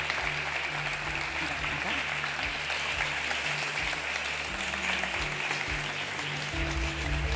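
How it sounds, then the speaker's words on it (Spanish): Audience applause welcoming Néstor García Canclini on stage at the III Bienal Córdoba Ciudad Diseño 2022, a steady, moderately distant wash of clapping that continues throughout with no voices over it. "les pedimos un fuerte aplauso para recibir a Néstor García Canclini"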